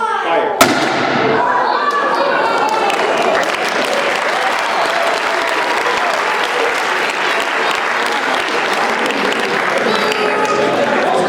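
Hydrogen-oxygen bottle rocket set off by a spark gives one sharp, loud pop, immediately followed by sustained clapping and crowd noise from an audience indoors.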